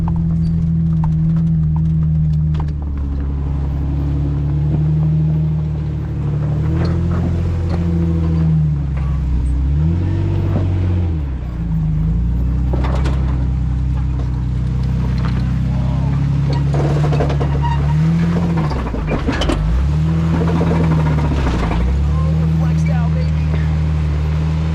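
A Jeep crawling up a steep rocky wall in 4-low, fourth gear, on an off-road trail: a loud, close, droning engine whose pitch rises and dips repeatedly as it strains, with scrapes and knocks over the constant rumble.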